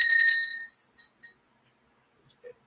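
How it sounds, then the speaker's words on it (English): A bell rung during a forex trading live stream, one bright ringing strike that fades within a second, followed by faint small clicks and then quiet. "Ring the bell."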